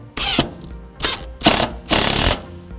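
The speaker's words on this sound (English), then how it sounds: "So I'll go ahead and put in some screws now." A power driver spins screws into a Leviton structured media center enclosure box in four short whirring bursts with brief pauses, close and loud, no voices.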